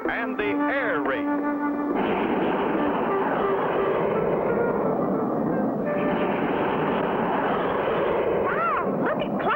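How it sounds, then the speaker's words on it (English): A fast cartoon jet plane races through the sky with a sustained, rushing roar. The roar comes in long steady stretches, and voices speak over it at the start and end. "Did you ever see such a fast jet plane, Mr. Hiram?"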